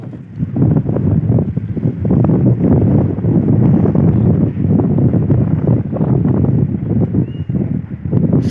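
Strong wind roars and buffets outdoors, rumbling continuously and loudly throughout with gusty fluctuations.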